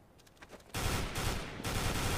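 Rapid automatic gunfire from Counter-Strike: Global Offensive starts abruptly and continues as loud, dense bursts with a brief gap, following a quieter stretch of faint shots.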